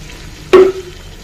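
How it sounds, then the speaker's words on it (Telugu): Tamarind juice is poured into a simmering drumstick and egg curry, giving one short, sharp splash and sizzle that quickly fades back to a quiet pan. "ఇప్పుడు మనము చింతపండు పులుసు వేసుకుందాం"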